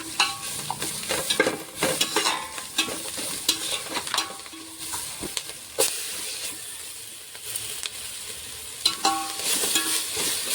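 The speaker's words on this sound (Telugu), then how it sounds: "అల్లం వెల్లుల్లి పేస్ట్ అయితే పచ్చివాసన పోయేంత వరకు ఫ్రై చేసుకోవాలి" Ginger garlic paste frying with chicken pieces for an instant Telangana-style chicken biryani, a steady loud sizzle with repeated scraping stirs against the pan throughout, no talking.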